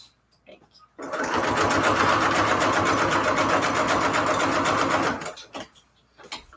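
A Bernina sewing machine nearly 25 years old runs in one continuous close, fast-stitching burst of about four seconds, with brief quiet room noise before and after.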